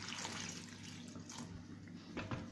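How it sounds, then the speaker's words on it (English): Water pours into a cooking pot while beans and plantain are being prepared, a soft continuous splashing and trickle heard fairly faintly, with no voices. "Then I'm going to add water"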